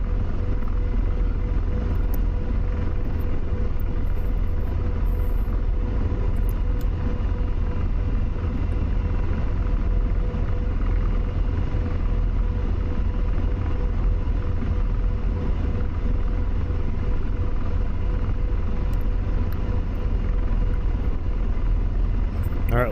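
Propeller warplanes, Thunderbolts and Corsairs, taking off in the DCS flight simulator: a loud, continuous engine roar and rumble that stays constant throughout with no talking.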